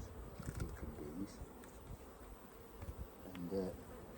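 Honey bees buzzing steadily around an open hive during a beekeeping inspection, a continuous close drone with a brief sharper flurry near the end.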